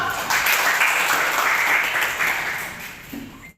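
A classroom full of students claps together in a steady, dense burst that lasts a few seconds and then tapers off near the end.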